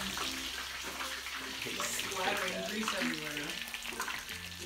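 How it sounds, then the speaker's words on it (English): Fries in a deep fryer bubble and hiss continuously, a rough watery crackle with a low hum underneath and some faint voice in the background. "next you're going to want to put the rest of the remaining fries into the fryer"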